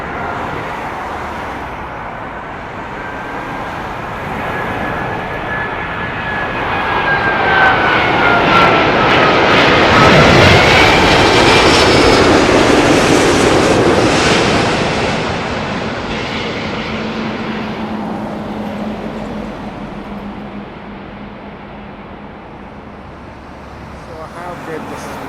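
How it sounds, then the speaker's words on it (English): A British Airways Airbus A380 jet passes at Heathrow, its engine roar building from a steady rumble to a loud peak midway before easing off. A whining tone sweeps across it, and the plane stays audible throughout. "British Airways A380, King of the Skies."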